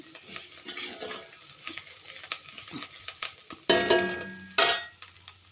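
Cauliflower fry with coriander leaves is stirred in a pan, with soft scraping and clinking, then two loud bursts of sizzle near the end, close by and without talk.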